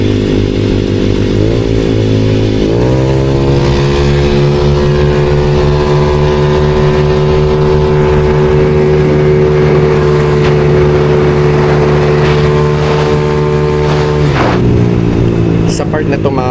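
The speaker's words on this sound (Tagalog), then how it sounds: "medyo isasagad ko ng bahagya ang throttle namin dito para matesting ko rin kung gaano katibay yung makina" A motorcycle engine revs hard and holds a high, steady throttle whine, dropping briefly near the start and again near the end, loud and close.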